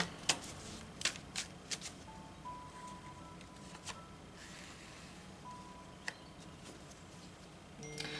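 Tarot cards drawn from a deck during a reading, a few quiet sharp card flicks and slides near the start and again later, soft and close against a faint room hiss.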